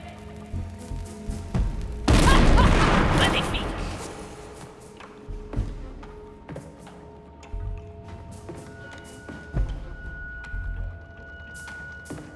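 A cannon fires in the pirate stealth game Shadow Gambit: The Cursed Crew, a single loud booming blast followed by a rolling decay, with quieter thuds and game ambience continuing around it.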